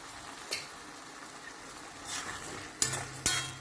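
Tomatoes sizzle softly in a pan for a pasta sauce, with a few sharp scrapes and clinks of a spoon stirring against the metal, quiet and close.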